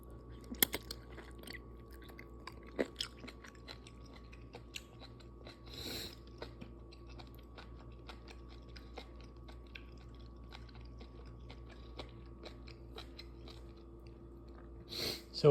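Someone chews simmered beef tendons from a butter soup, with close, soft, repeated wet bites and occasional crunchy clicks over a quiet steady hum.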